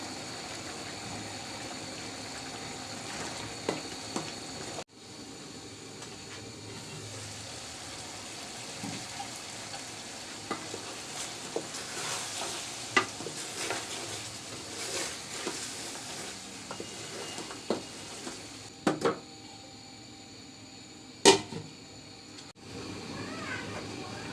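Beef for haleem cooks and is stirred in a pot, giving a faint continuous sizzle broken by scattered scraping clicks and knocks, with a person speaking quietly now and then.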